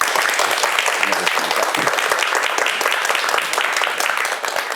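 A studio audience breaks into dense, sustained applause welcoming a televised lecture on character education, steady and loud for the whole stretch with no voices over it.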